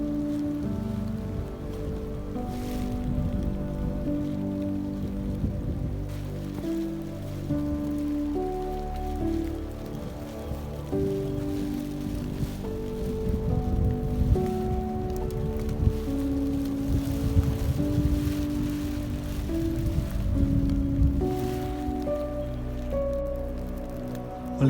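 Rain falling steadily through a mountain forest on Gunung Argopuro, East Java, a continuous soft patter and hiss on leaves and ground, even and enveloping with no voices.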